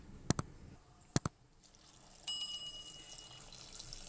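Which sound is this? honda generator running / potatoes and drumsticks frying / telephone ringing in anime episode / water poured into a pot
water poured into a pot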